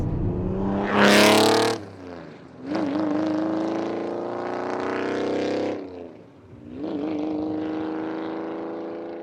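A Koenig Specials Ferrari Testarossa 80s supercar under way: loud engine roars through repeated accelerations, each rising in pitch before a brief dip at the gear change, close and without talk.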